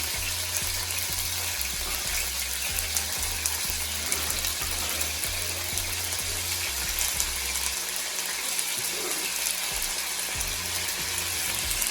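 Onions sizzle steadily in a hot pan while ackee and saltfish is being cooked, a continuous hiss and crackle running the whole time with a low hum underneath and no talking.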